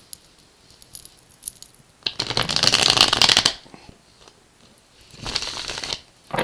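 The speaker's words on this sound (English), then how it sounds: "I have one more shuffle to go and we'll get started" A Santa Muerte tarot deck is shuffled close up, with two crisp riffling bursts separated by quieter handling and small card taps.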